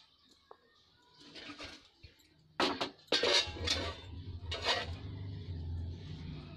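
Sesame laddu mixture being stirred in a bowl, a series of clinking and scraping utensil-on-dish sounds in quick irregular strokes, close and moderately loud, with a faint voice in the background.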